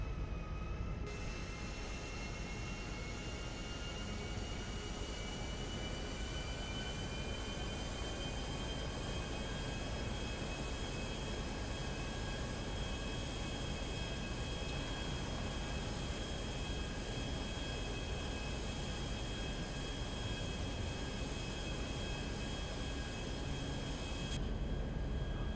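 A Nimbus plane in GTA V takes off with a steady, loud engine drone and a high whine that holds evenly throughout, with no speech.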